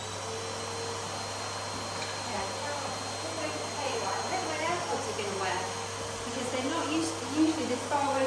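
A household vacuum cleaner runs in a home with puppies nearby, giving a steady, fairly quiet motor drone and airflow hiss at a constant level throughout.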